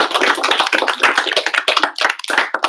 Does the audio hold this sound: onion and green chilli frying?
no